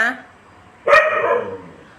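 A dog barking at passers-by on a road gives a single sharp bark near the middle, close and fairly loud, after a brief fading sound at the start.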